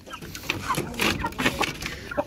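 Naked neck chickens cluck close by in quick, overlapping bursts, a busy flock of fowl calling in a steady stream.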